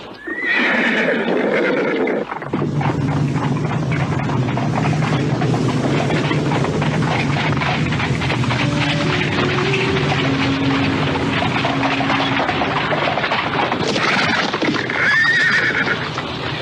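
A horse pulling a carriage whinnies loudly at the start and again near the end, with steady hoof clip-clop and rolling carriage rumble throughout.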